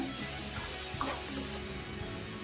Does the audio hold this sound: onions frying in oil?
yes